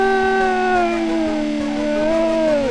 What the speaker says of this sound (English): Yeah, the engine just roars.